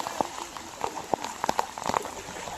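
Heavy monsoon rain pattering on flooded streets in Loni, India, with scattered sharp drops and splashes over a steady hiss, close by.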